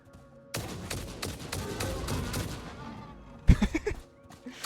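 Rifle gunfire in the video game Satisfactory: a steady stream of rapid shots, then a short pause and a final cluster of sharp, louder reports that quickly fade.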